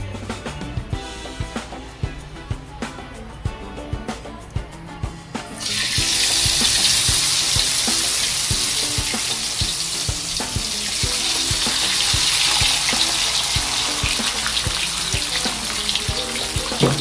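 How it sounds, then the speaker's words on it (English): Kembong fish (mackerel) goes into hot oil in a pan; after several seconds of quiet clinks and kitchen sounds, a loud, dense sizzle bursts up and holds steady to the end. "Now I'm going to fry ikan kembong."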